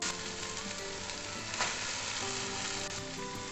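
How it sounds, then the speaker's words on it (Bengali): Mutton sizzles and fries in oil with spice masala for mutton kosha, a steady, loud, dense crackle with a brief stir scrape near the middle and no voices. "মটন আমি দিয়ে দিয়েছি। এরপর আমি এটা ভালোভাবে কষাতে থাকব।"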